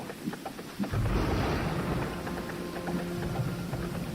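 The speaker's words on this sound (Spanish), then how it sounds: "los truenos apenas le concedían un respiro entre sí, y el fuerte aguacero se abría paso por entre el espeso follaje" Heavy rain pours steadily through thick forest foliage while deep thunder rumbles and rolls, swelling after about a second and lingering as a low growl beneath the constant downpour; no voices.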